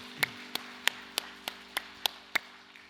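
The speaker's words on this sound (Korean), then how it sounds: "하나님께 감사의 박수 올려드립시다." During a Korean church service, eight sharp, evenly spaced claps sound in unison, faint and slightly distant, over a quiet steady hum.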